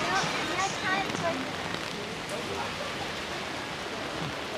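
Rain falls steadily at night in Shinjuku during a typhoon, a dense, even hiss of drops on surfaces that holds at a constant level throughout, with no clear voices.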